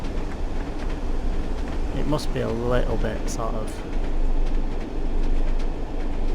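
A Class 101 diesel multiple unit running in Train Sim World 2 between Leeds and Huddersfield, giving a steady low rumble and hum throughout, with someone talking over it.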